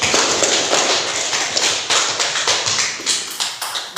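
Students in an Indonesian classroom clap together in a quick, fairly steady rhythm of sharp, close hand claps lasting about four seconds, with no talk over it.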